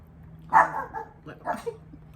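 A pet dog barks a few sharp, close yips and woofs indoors at home, two or three short bursts separated by brief pauses over a faint low hum.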